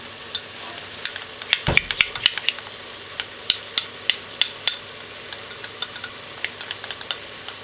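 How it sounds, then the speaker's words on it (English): Soft sizzling from a pot of Jamaican stew peas as browning sauce goes in, with scattered crackles and light clicks of stirring, close by and steady with no talking. "Add the browning."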